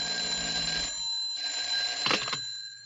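An old telephone bell rings in a radio drama: two loud, close trills separated by a short pause, followed by a brief clatter.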